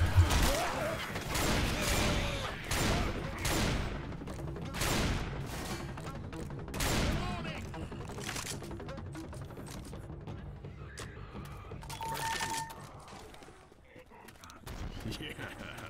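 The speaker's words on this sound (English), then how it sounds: "They're shooting the ground." Gunfire in the video game Left 4 Dead 2 during the Crunch Time campaign, with bursts of shots repeating over the first several seconds and then thinning out, mixed with game voices and background noise.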